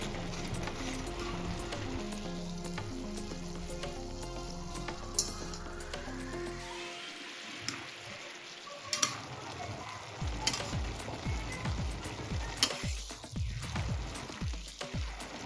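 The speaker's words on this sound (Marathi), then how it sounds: "हे बघा एकदा मिक्स करून घ्यायचं" Vegetable masala Maggi noodles get stirred in a pan, a steady low sizzle with intermittent scraping and clinking of a spatula against metal, close up and fairly quiet, no talk.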